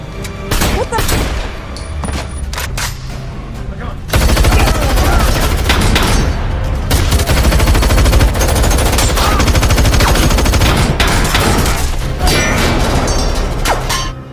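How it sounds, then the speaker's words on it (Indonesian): Heavy gunfire in a film scene, a bank robbery shootout: sporadic shots at first, then a loud, sustained barrage of rapid automatic bursts with booms, all up close, with no talk. "Ia juga menembaki Hill dan membunuh Dave."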